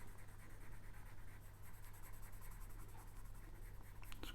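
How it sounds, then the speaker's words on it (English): A 2B pencil shades on paper with a soft, continuous scratchy rubbing and a light back-and-forth stroke rhythm. It is quiet and close, over a low background hum. "I'm using my 2B pencil."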